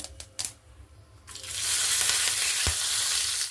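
Dried red chillies, turmeric powder and curry leaves hit hot oil in a pan for chutney tempering, bursting into a loud, steady sizzle after a few light clinks, with one sharp pop near the end; no talking.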